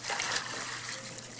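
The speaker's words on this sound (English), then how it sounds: "Give it some bucket of water." Water poured from a bucket onto the ground around a wooden fence post, a steady close trickle and splash lasting about a second and a half with no talk over it.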